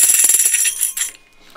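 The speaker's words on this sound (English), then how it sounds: "let's hear the buzzers" Quiz show buzzers going off in quick succession, a bright rapid electronic ringing trill, loud and close, that cuts off abruptly after about a second.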